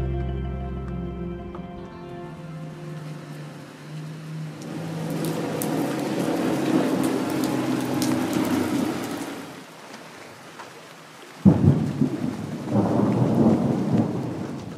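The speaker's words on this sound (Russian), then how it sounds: "Гватемала провожает вот такой вот не самой ясной погодой, немножечко дождливо" Rain falls steadily in Guatemala as thunder rolls, a deep rumble early on and a sharper loud crack later, over continuous patter on surfaces.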